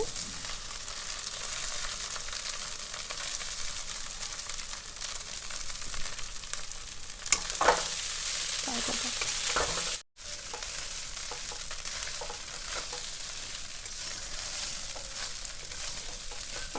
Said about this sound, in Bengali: এই চিড়েটা এখন আমরা নাড়াচাড়া দেব ভালো করে, যাতে তেলটা চিড়েটার সঙ্গে মিশে যায়।